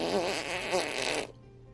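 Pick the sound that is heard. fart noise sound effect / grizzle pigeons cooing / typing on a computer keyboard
fart noise sound effect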